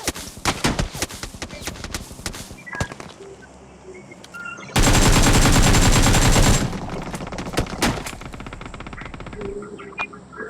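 Rapid gunfire from the battle royale game BGMI crackles in dense automatic bursts, with a sustained loud volley in the middle and scattered shots around it, close and sharp.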